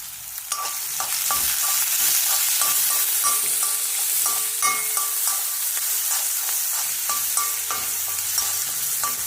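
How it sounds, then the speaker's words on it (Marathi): Onion sizzles in a pan with jaggery while a utensil stirs and scrapes repeatedly, a steady close frying hiss punctuated by clinks. "कांदा कसा गोल्डन कलर येतो भाजून घ्यायचं"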